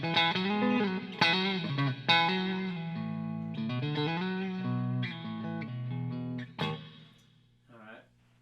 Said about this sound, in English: This is just the Boss RD500 reverb. Set to a plate, real splashy but short.